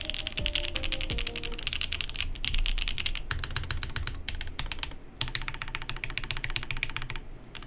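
Rapid typing on a WindX80 mechanical keyboard, a dense run of close, crisp key clacks in bursts with a few short pauses, no voices.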